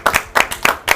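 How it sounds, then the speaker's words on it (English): Several people clap together in brisk, uneven bursts, a small audience applauding the Scotland teams at an F1 in Schools regional final racing show, close and fairly loud. "should we give another round of applause for all of our teams?"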